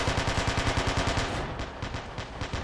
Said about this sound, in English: let's make the next shot a kill shot